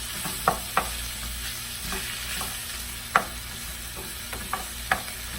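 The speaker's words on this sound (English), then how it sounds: "Fry it all together, I should say." Longaniza sausage, onion and nopales frying together in a pan: a steady low sizzle broken by several sharp spoon scrapes and clicks at irregular intervals, with no talking.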